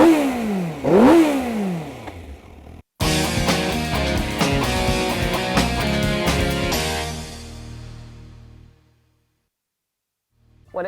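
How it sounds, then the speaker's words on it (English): An inline four-cylinder motorcycle engine revs hard several times, climbing and falling in pitch, then settles and cuts out into silence near the end. "it may be an inline 4, but it does not sound like any other 4-cylinder motorcycle you can buy"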